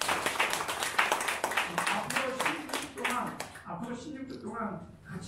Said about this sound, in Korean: 박수 한번 쳐주시고요.